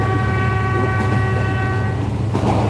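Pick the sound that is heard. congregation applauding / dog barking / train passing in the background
train passing in the background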